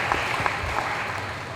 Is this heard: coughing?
no